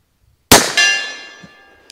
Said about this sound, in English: let's go ahead and shoot one into the steel first